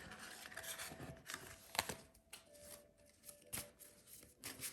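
Tarot cards gathered and shuffled by hand, soft riffling and sliding bursts in an uneven rhythm, close but quiet, with no voices.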